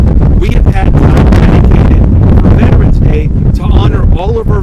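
Heavy wind buffets the microphone in a loud, continuous low rumble at an outdoor Veterans Day event in a park, with a voice talking underneath throughout.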